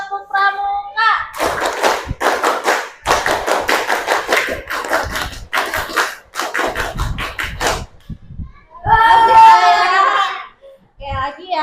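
Schoolchildren in a classroom perform the Indonesian Pramuka scout clap, bursts of rhythmic hand clapping in quick patterned sets with short pauses between, loud and close, plus a brief stretch of children's voices calling out together.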